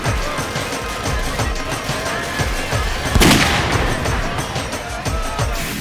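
Gunshot sound effect in a Hindi crime drama about a wedding shooting: one sharp, loud blast stands out against busy, rhythmic background noise, with no talking.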